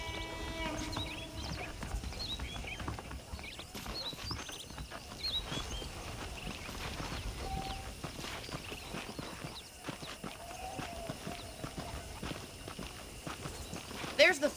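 Horse hooves clip-clop at a walking pace in the Red Dead Redemption video game, a steady hollow clatter under spoken dialogue, with a brief horse snort or whinny mixed in.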